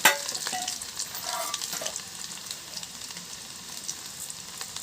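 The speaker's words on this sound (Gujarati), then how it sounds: "હવે લસણ નાખી દીધું છે" Garlic sizzles in hot oil in a kadai for a village-style spiny gourd curry, a bright steady crackle with a sharp burst at the start, then settling into a continuous close fry with faint stirring, without speech.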